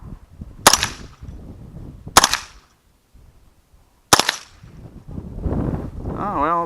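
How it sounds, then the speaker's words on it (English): Three sharp .22 rifle shots crack at spaced intervals against a steel dueling tree target, each a loud, abrupt impact with brief ringing, followed by a stretch of rustling noise. "the rifle's hitting it a little hard"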